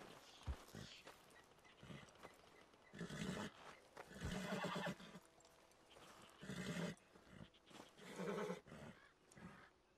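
A horse in the video game Red Dead Redemption 2 neighs and whinnies in several separate, fairly faint bursts, with quieter game ambience between them.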